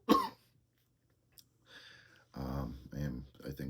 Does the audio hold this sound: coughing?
yes